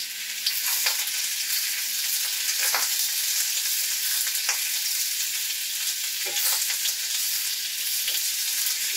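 Half an onion and half a zucchini sauté in oil in a pan, giving a continuous bright sizzle broken by a few sharp scrapes of a utensil across the pan, with no talking.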